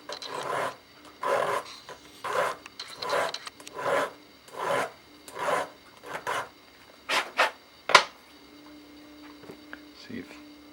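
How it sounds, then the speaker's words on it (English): A hand file rasps a plastic 2011 pistol grip for trigger clearance, about ten rhythmic back-and-forth strokes at close range, then a few quicker strokes and faint handling noises. "So I'll just take a file, put a little more on there."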